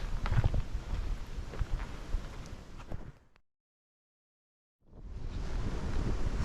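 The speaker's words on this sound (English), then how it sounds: "The wind is crazy." Strong, cold wind roars into the microphone on a nature trail, loud and rumbling, cutting out abruptly for about a second and a half before gusting back in.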